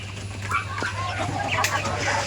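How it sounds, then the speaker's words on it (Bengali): Tiger breed chickens on a farm, a Chinese breed kept in a flock of around sixty to seventy, cluck softly in a few short, scattered calls over steady low background noise. "এগুলা টাইগার মুরগি আছে"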